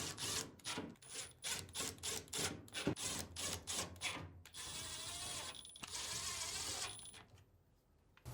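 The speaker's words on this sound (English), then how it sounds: "Then, reinstall the 6 screws." Screws being driven back into the front panel of a Samsung dryer, a quick series of sharp, rhythmic metallic clicks and ratchets up close, then a steadier whirring stretch and a fading tail, with no talking.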